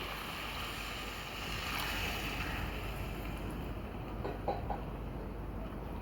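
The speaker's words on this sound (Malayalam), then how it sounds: "ഇനി നമുക്കിതിലേക്ക് ചൂടുവെള്ളം ഒഴിച്ചു കൊടുക്കാം" Hot water pours into a pan of chicken masala with a steady, close rushing and bubbling wash that holds evenly throughout, with no talking.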